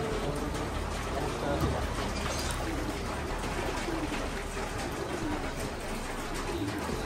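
Soft cooing of giant pigeons in a loft after a flood, low murmuring calls repeating under a steady wash of background noise, with faint human voice nearby.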